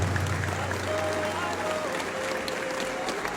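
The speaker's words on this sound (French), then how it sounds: "Je vous demande de l'applaudir très fortement" A large crowd at a political gathering applauds loudly and continuously for the president of Niger, a dense sustained roar of clapping with a faint tone running through it.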